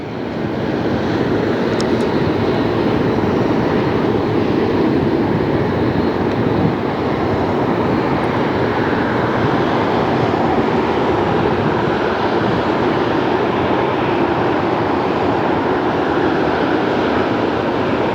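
A loud, continuous jet engine roar from an airliner near LAX holds steady for the whole stretch, close and unbroken.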